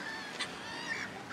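A few short seagull cries ring out faintly on the North Wales coast, spaced apart, over a low steady background hum.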